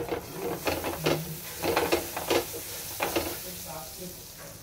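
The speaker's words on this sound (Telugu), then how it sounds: "ఇప్పుడు స్టవ్ వెలిగించుకొని ప్యాన్ వేసుకొని దీని మీద బటర్ రాసుకుంటున్నాను" Butter melting on a hot pan on the stove for a street-food style pav bhaji sandwich, giving a steady sizzle broken by clattering scrapes and taps of a utensil against the pan, close and moderately loud.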